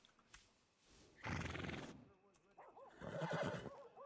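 Horse neighing in the video game Red Dead Redemption II, two loud whinnies with wavering, falling pitch, the first burst brief and the second longer and trembling, set against quiet ambient game sound.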